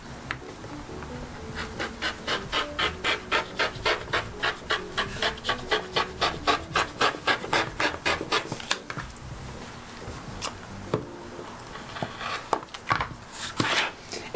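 Scissors trim knit fabric for a top, making a rhythmic run of about twenty close crunching snips that gives way to scattered, irregular cuts and rustling.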